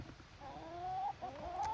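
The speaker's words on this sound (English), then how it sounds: "And a bunch of chickens. So there's their chicken coop right up there." Chickens cluck beside their coop at a countryside cottage, faint drawn-out calls rising above a low outdoor background.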